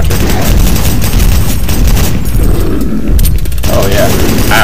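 Rocket launcher firing in the shooter game Doom 3, dense booming blasts and explosions in a loud continuous barrage, with a voice talking over the combat.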